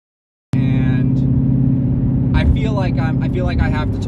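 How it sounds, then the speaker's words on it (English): A 2019 Mustang GT engine with MBRP race exhaust, cold air intake and tune drones loudly at steady revs after a sudden start, a deep continuous rumble under a person talking over it. "So with the MBRP race exhaust and the JLT cold air intake and the tune, it definitely bumped up the sound level quite a bit."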